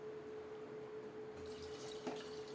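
Water pours into a pressure cooker holding chicken, a soft, steady splashing trickle with a faint background hum, fairly quiet and uninterrupted.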